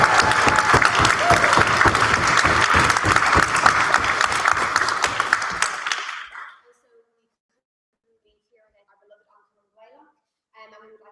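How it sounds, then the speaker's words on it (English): A debate audience gives a loud, dense round of applause for the chair that runs for about six seconds, then cuts off abruptly into near silence with a few faint sounds. "massive round of applause"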